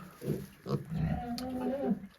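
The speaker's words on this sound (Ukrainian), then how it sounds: "Дивіться, друзі, як в нас поросята їдять з кормушки залазять в кормушку" Piglets grunting and squealing around a farm feeder as they climb in to eat, a close, busy cluster of short snuffling calls with a few drawn-out squeals.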